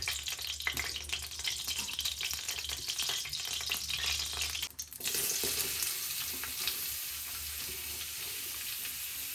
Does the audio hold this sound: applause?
no